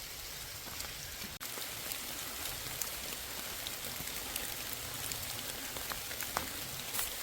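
Steady rain falls on a hiking trail, a dense continuous patter of drops with scattered louder individual hits, heard alone and close.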